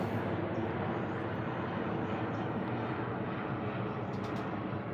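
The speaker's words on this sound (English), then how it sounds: "sorry, there's an airplane. Hold on, hold for sound." A continuous low roar of an airplane passing overhead, steady and broad throughout, with no voices.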